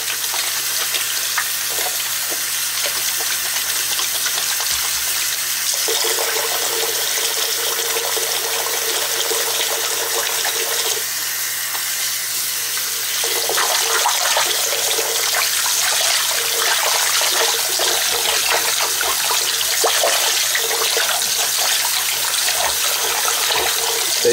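Water runs steadily into a sink, a continuous splashing hiss that grows a little louder partway through, with no talking.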